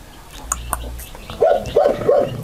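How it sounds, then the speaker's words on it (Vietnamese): A Bắc Hà dog, the H'Mông breed, gives three loud, close barks in quick succession after a quieter stretch of background noise with faint voices. "Đây là cái chú chó nhân vật chính của chúng tôi ngày hôm nay."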